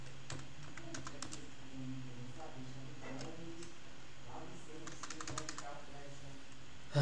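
Computer keyboard keys clatter in quick, irregular bursts while setting up a Slackware home server, steady typing sitting under background hum and a voice speaking intermittently.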